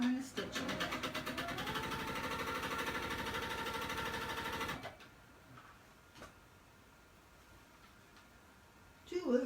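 A sewing machine runs a test line of stitching on a trapunto quilting piece: close, steady rapid whirring and ticking for about five seconds, then it stops, followed by a few faint clicks and handling sounds.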